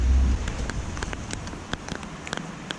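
Steady outdoor rain falling around a DAF LF truck during work on a blocked EGR valve, with a broadband hiss and scattered sharp drops close by, heavier at first and then settling.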